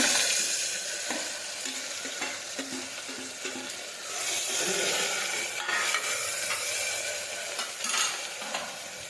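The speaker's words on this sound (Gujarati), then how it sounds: "આપણું તેલ છે તે ગરમ થઈ ગયું છે હવે આપણે તેમાં રાઈ નાખી દઈશું કાંદા નાખી દઈશું સમારેલા ટમેટા નાખી દઈશું" Mustard seeds, chopped onion and tomato fry in hot oil, giving a steady broadband sizzle with scraping stirs and small crackles throughout, close and fairly loud, with no voices.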